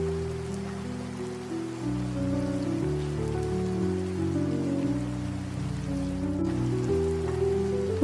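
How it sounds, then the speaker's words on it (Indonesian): Heavy rain pours steadily onto surfaces, a dense continuous hiss at even loudness throughout, with a low tonal drone beneath and no voices. "Suara hujan yang menenangkan bisa jadi seperti lagu pengantar tidur baginya."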